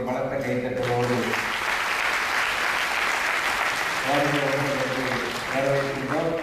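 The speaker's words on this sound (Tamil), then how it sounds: "ஒரு பலத்த கைத்தட்டலோடு" Loud, sustained applause from a seated audience at an award ceremony in Triplicane, a dense wash of clapping that carries on under a voice speaking at the start and again near the end.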